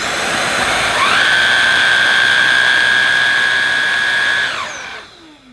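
A Vax ONEPWR Blade 4 Pet cordless vacuum's mini motorised brush tool spins up after a second, holds a loud, steady high-pitched whirring whine for several seconds, then spins down and fades out.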